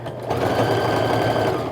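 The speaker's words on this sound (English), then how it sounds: "I've got my sewing machine set to a 1/4 inch stitch." A sewing machine runs steadily, stitching fabric strips with a quarter-inch seam, a fast, even mechanical chatter that stays loud and close throughout without pause.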